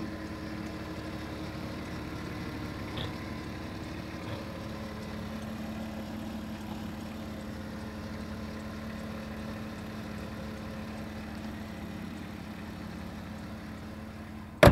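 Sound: SUV engine idling

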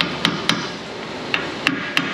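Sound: hammer tapping a spacer onto truck control arm

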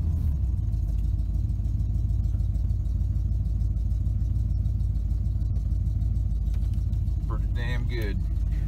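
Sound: Chevy C10 pickup with crate 350 engine put in reverse

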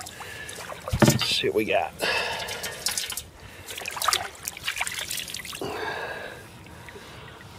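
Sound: washing off a found ring in water

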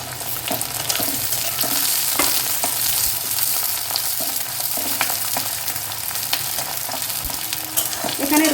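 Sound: garlic, onion and green chillies frying in a pan

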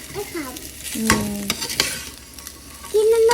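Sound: stirring Maggi noodles with vegetables in a pan

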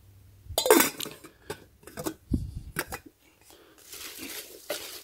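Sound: handling a 1 quart stainless steel pot and lid

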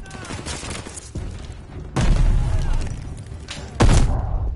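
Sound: grenade explosion in the video game Call of Duty: Vanguard

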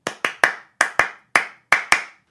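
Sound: hand clapping pattern from Steve Reich's Clapping Music

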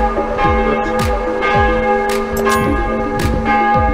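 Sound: church bell ringing in a bell tower

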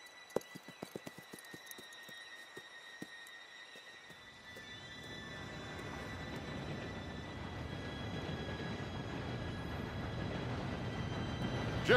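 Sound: train approaching in video game Red Dead Redemption 2

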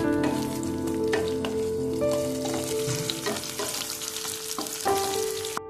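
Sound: onions frying with sugar in a pan

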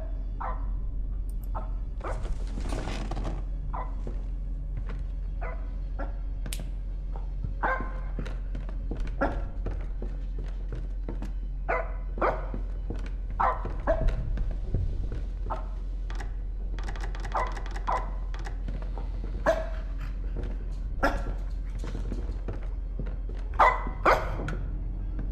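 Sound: dog barking in a horror video game

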